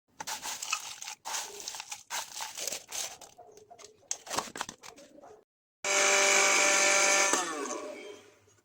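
Electric grinder pulverising crisp dried mango slices into amchur powder: a loud, steady whirring burst lasting under two seconds, after earlier rattling and crinkling handling sounds.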